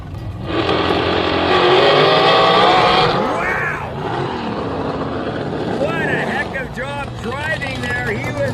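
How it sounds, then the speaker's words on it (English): A drag race car on the starting line roars through a few hard free revs, the loud blast dropping away after about three seconds as an announcer talks over the idling engine. "He's doing a few free revs just to make sure it is right."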